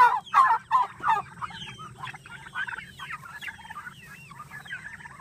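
A flock of turkeys and chickens clucks nearby, a burst of loud calls at first, then softer chattering and trills that carry on steadily.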